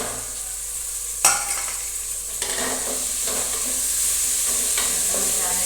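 Chilies, onion and potatoes fry in oil for poha batata, a steady close sizzle broken by a few sharp scrapes of stirring, with no talk.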